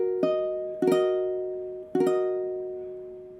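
A minor chord, played as an ear-training example, sounds as three clear strikes of sustained notes, each ringing and fading before the next, with no talking.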